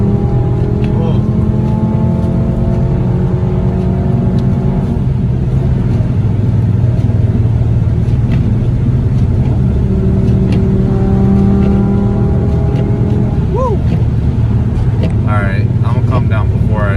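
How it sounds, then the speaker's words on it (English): A loud MK6 Jetta 2.5 engine drones and revs continuously, its pitch rising and falling with throttle, deep exhaust rumble dominating throughout. "my exhaust sounds amazing"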